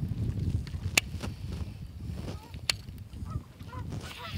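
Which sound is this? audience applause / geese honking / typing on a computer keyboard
geese honking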